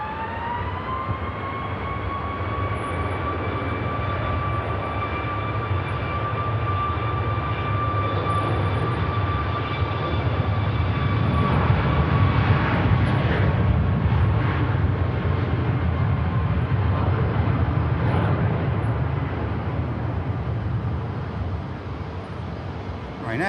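A Ryanair airliner accelerating down runway 05 left at Manchester Airport for takeoff, a sustained loud jet engine roar with whining tones, swelling as it passes, with a person commenting over it.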